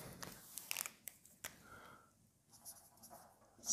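Pen scratches and taps quietly and close as a maths solution is written out, in short irregular strokes with brief pauses, and no voice.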